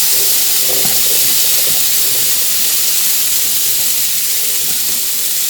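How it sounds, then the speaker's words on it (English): Cut jicama stir-fries in hot oil in a pan, giving a loud, steady sizzling hiss that fills the whole stretch up close with no pauses and no talk. "we're going to stir fry it for a minute or two"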